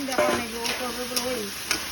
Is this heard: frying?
yes